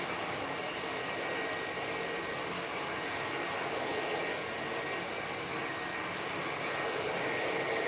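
A hair dryer fitted with a nozzle blows steadily and loudly, close by, as it directs hair during a long-on-top textured men's haircut, a constant broadband whoosh with no talking.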